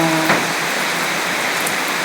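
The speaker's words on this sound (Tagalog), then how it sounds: "malakas yung ulan" Heavy rain pours down steadily, a loud continuous hiss of drops hitting surfaces, with a brief tonal sound at the very start.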